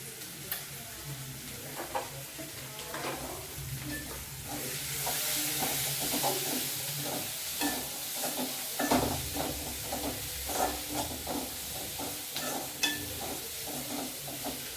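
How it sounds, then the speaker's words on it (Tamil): Onions sizzle and sauté steadily in a hot pan, with occasional stirring scrapes and ticks over a constant frying hiss. "வெங்காயம் இப்படி வதங்கிடும்."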